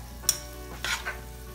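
Chicken with spring onions frying over a slow flame, with a low steady sizzle and a couple of sharp spatula clinks and scrapes against the pan, close by.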